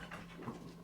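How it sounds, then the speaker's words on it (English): A dog pants softly at close range in quick breaths, with faint scuffling movement. "that's the dog going after them because they probably just took like a sock or something"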